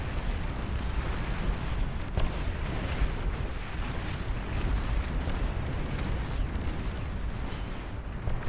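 Artillery launchers firing in the real-time strategy game Beyond All Reason, a dense continuous roar of overlapping booms and blasts in a massive battle.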